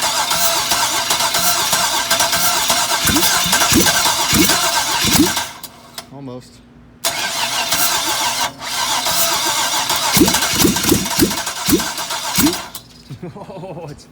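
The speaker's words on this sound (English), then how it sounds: "We're gonna get this thing running without the headers on it." A 1975 Pontiac Firebird Formula with a swapped LS engine, run without headers, cranks and fires in loud bursts, goes quiet, then cranks again with more popping. Someone speaks briefly between the attempts.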